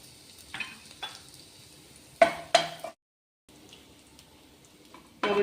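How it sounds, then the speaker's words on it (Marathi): Garlic and ginger sautéing in hot oil, with a light sizzle, a few stirring scrapes and two louder utensil clanks, then a brief gap before the soft frying resumes. "लसूण आणि अद्रक परतून घ्यायचे"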